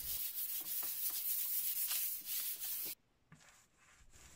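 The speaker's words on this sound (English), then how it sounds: "I lightly sanded the primer before applying my first coat." Primer on IKEA furniture being lightly sanded by hand, a steady rasping scrub with rhythmic strokes for about three seconds, then stopping, leaving near silence with a faint scrape.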